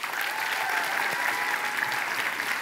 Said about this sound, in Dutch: Graag een heel groot applaus voor Gea Kramer.